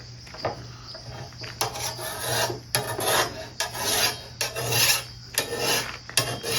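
A machete edge sharpened with a hand file recommended for machetes, repeated close rasping strokes in an uneven rhythm, each a short gritty scrape, with a faint steady hum underneath.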